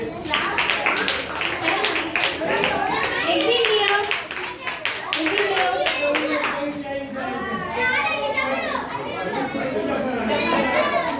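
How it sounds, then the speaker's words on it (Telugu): Lively children's voices fill the space while rapid, scattered hand claps ring out close by, overlapping and loosely rhythmic. "క్లాప్స్ కొట్టండి."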